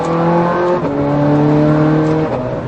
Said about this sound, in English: This gear change, I can't get over it. Feel this gear change.